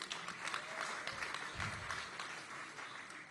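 Audience clapping at a political gala, fairly faint and distant, a dense patter of hands with a brief low thump partway through.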